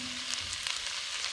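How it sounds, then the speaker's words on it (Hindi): Vegetables with carrots, boiled peas and chillies frying in a pan, a steady broadband sizzle running close and even throughout the short moment with no talk. "जी तो 2 से 3 मिनट मैंने इन वेजिटेबल्स को फ्राई कर लिया है।"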